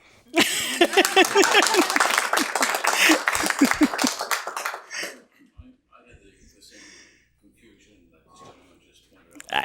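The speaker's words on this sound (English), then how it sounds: "You can clap." An audience claps at a joint press conference for CASA and the City of York, a brisk burst of many hands for about four seconds that quickly dies away into faint room murmur and scattered small noises.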